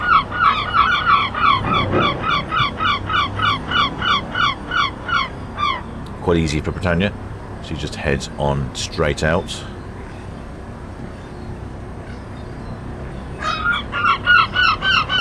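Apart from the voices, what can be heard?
seagulls calling at port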